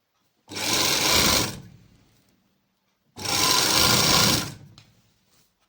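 A sewing machine stitches a straight salwar in two loud, close bursts of rapid mechanical whirring, separated by a short quiet pause, with no talking.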